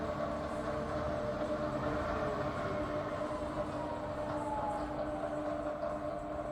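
A rebuilt Bridgeport milling machine with a 42-inch table runs its spindle steadily at 350 RPM in low range, giving a continuous, even mechanical hum and whine with no breaks or speech.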